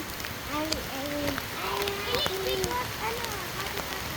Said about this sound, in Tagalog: Pero malakas yung rain ah.